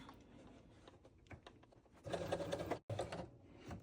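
A sewing machine stitches quilt binding, starting with faint, scattered mechanical clicks before a louder burst of rapid stitching that stops briefly and resumes.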